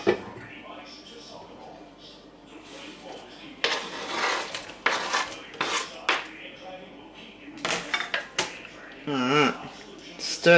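Ingredients stirred in a slow cooker, with clattering spoon-on-pot knocks and scrapes in irregular bursts, close and fairly loud, alongside someone talking.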